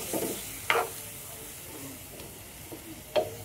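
Chicken simmering in a pan for a village-style Bengali chicken posto curry, with a soft sizzle and bubbling after a little water goes in, marked by a few brief stirring clatters of a spoon against the pan.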